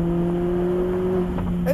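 Mazda Miata engine droning steadily on a wet race track, a sustained close throttle tone with a slight rise near the end.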